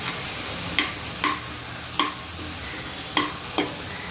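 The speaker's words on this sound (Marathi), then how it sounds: "जरा गॅस जरा कमी जास्त करून भाजून घ्यायचो कांदे" Onions fry in a pan while being stirred, a steady low sizzle broken by five or so sharp spoon scrapes and knocks against the pan at irregular intervals.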